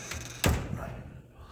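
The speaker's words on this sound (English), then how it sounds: "In fact, I think I'm gonna close that door." A door in a Masonic lodge swings shut with one solid thunk, a low broadband impact about a third of the way in, followed by quiet room tone.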